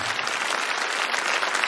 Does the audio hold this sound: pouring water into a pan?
no